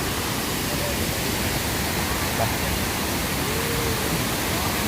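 Krueng Kravia waterfall, a forest headwater stream, pours with a dense, steady broadband roar close by, unbroken from start to finish.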